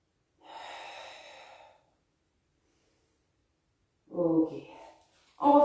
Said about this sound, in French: Et je souffle légèrement. Inspire. Expire.